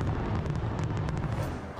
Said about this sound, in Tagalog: Nagningning din ang kalangitan sa mga makukulay na paputok sa Copacabana Beach sa Rio de Janeiro sa Brazil.